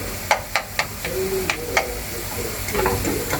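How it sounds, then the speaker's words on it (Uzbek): Onion sizzles steadily in a hot pan, with a few sharp clicks of a utensil knocking against the pan early on. "mana bitta dona o'rta bo'y piyozni hozir qovurib, ustiga 4-5 ta tuxum chaqib yuboramiz"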